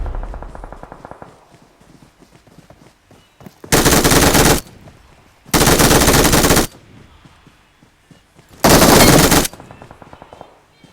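Automatic weapon fire from the video game PUBG comes in three loud, close bursts of rapid shots, each lasting about a second, separated by quieter gaps with faint game sounds.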